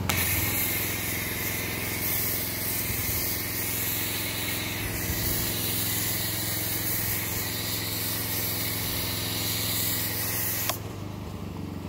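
A steady, hissing spray of truck-and-trailer wash onto a zero-turn lawnmower runs for several seconds over a low engine hum, then the spray stops and the engine idles on.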